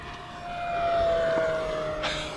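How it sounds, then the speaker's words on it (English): An E-flite P-51 Mustang RC plane drones overhead with a steady whine, swelling slightly louder and then easing as it comes in to land, alone without talk. "All right, let's bring it in for a smooth landing, Abby."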